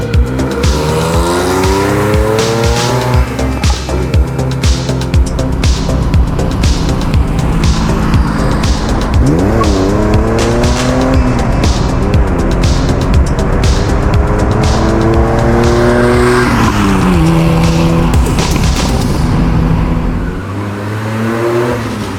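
A DeLorean with a rear mid-mounted 2.8 V6 engine revs hard and accelerates, its engine note climbing and falling through repeated pitch sweeps, with tires squealing. The sound is loud and close, then eases off near the end.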